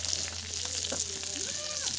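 Fish frying in a pan over a wood-fired clay stove, a steady broadband sizzle that continues throughout, with faint voice-like tones and a low hum underneath.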